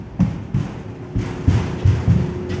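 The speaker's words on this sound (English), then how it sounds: "Sorry about the noise, my little ones are stomping upstairs." Children stomping on a floor upstairs, heard indoors as a series of dull, irregular low thuds spread over a couple of seconds, moderately loud and muffled through the ceiling, with no talking.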